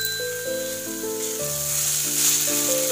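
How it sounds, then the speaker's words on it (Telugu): Onions with ginger garlic paste fry in a pan, giving a soft, steady sizzle that runs beneath background music for the whole stretch. "ఇప్పుడు ఈ ఆనియన్స్ ఫ్రై అయిన తర్వాత దీనిలో ఒక స్పూన్ జింజర్ గార్లిక్ పేస్ట్ ని యాడ్ చేసుకోవాలి।"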